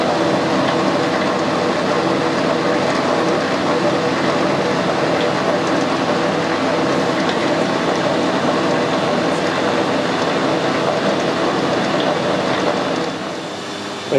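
A metal lathe cuts an Acme lead screw thread with the lead screw engaged, giving a steady, even machining whir and hiss that holds for the whole stretch and eases off at the end.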